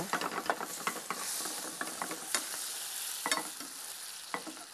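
Blanched citrus zests cook in a pan for bananas flambées, giving a steady close sizzle with frequent scraping stirs and small crackles.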